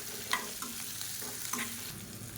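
Tomatoes and onions sautéing in a pan, a close, steady sizzle and crackle with a few soft stirring scrapes, no voices.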